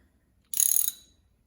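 A ratchet wrench clicks in a rapid, close burst of about a dozen ticks while tightening during an IMA battery install on a first-generation Honda Insight.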